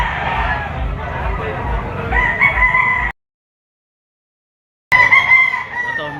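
Roosters at a gamefowl auction market in Lipa crow loudly and close, one long crow then a brief silence before another begins, over a murmur of crowd and voices.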